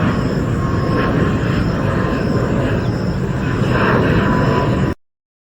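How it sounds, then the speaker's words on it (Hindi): A steady, loud engine roar of an airplane passing close by, continuous for several seconds before cutting off abruptly. "ये है हवाई जहाज। अंग्रेजी में कहते हैं एयरप्लेन।"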